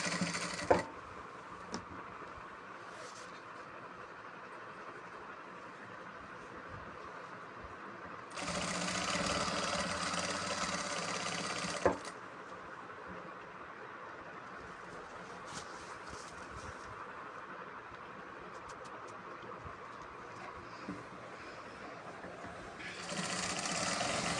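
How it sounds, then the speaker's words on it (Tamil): A sewing machine runs stitching a double seam on a salwar suit, its whirring motor humming steadily with two louder bursts of faster stitching, no speech. "இப்போ இந்த இடத்துல நம்ம 2 டபுள் தையல் அடிச்சுட்டு வந்துட்டோம்ல, சுற்றி 2 தடவை"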